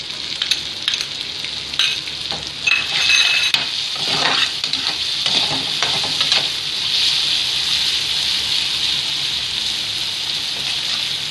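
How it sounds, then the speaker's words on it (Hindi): Chaat masala and chopped green chili roast in a pan with paneer, giving a steady bright sizzle with scraping stir strokes near the start, then settling into an even continuous fry. "और ये अब भुन रहा है।"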